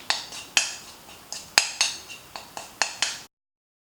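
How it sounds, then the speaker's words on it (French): A spoon clinks repeatedly against a bowl while a homemade yogurt face mask mixture is stirred, giving about ten sharp, evenly spaced metallic taps close by with no talking. "Donc voilà, on mélange le tout."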